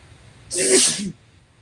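One loud, close sneeze with a sharp hissing burst, preceded and followed by near silence.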